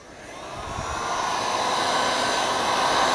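Heat gun blowing over holographic tint film on a car tail light, a rushing airflow roar that builds quickly and holds steady and loud.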